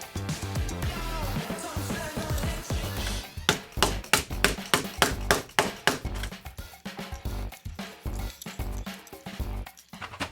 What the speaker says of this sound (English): when I hammer on all the inside pieces, it won't break apart everything and move everything around